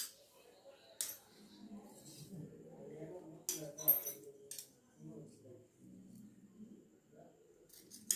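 Scissors snip through blouse fabric on a cutting table, a few sharp metallic crunches spaced out while someone talks quietly throughout.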